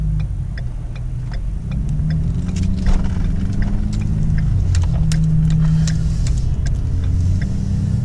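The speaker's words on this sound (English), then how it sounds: "just driving around town, empty, no trailer, no load, nothing, just to show you guys exactly what my lag is like stock" An empty stock diesel pickup truck with no trailer or load cruises through town, its engine a steady low droning rumble that swells slightly as it pulls, with light rattles and ticks in the cab; no talk.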